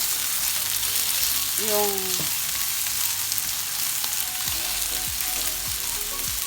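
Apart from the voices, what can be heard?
onion frying until golden brown for chicken biryani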